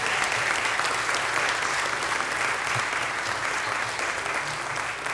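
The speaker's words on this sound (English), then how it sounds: "Let's give them a hand of applause." A room full of people at a city council meeting applauds students, dense, even clapping running steadily from start to finish.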